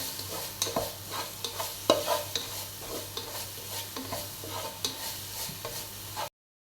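Ginger, garlic and green chili are stirred and sautéed in a pan for Thalassery-style chicken dum biryani, a close, continuous sizzle broken by repeated scraping strokes of a spoon, with no speech.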